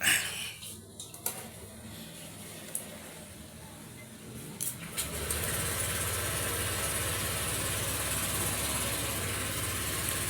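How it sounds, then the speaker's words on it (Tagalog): A car engine on a weak battery turns over around the midpoint and settles into a steady, fairly loud idle that continues to the end. Before that there are only faint knocks and rustles. "Try natin paandarin yung makina."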